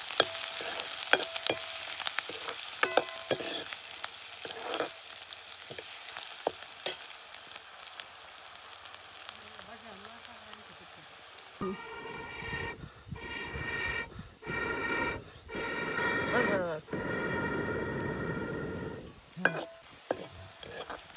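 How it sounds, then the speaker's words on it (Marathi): Finely chopped onion fries with cumin seeds in a pan, a steady close sizzle with crackling that grows louder and denser partway through as the onion is stirred. "कांदा लालसर मस्त परतून घ्यायचा आहे"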